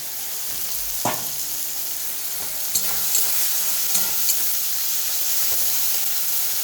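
Food sizzles in a pan on a home stove, a steady close hiss broken by a few sharp knocks of a stirring utensil against the pan; no one speaks.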